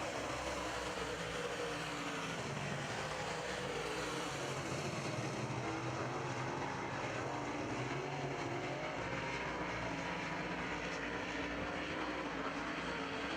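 Late model race cars roar around a racetrack in a dense, continuous wall of engine noise heard from the stands, loud and unbroken throughout with no voices.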